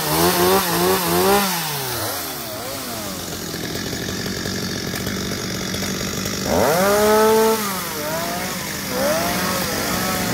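A chainsaw engine revs up and down repeatedly while cutting a heavily rooted tree, loud and close, its pitch rising and falling with each pass.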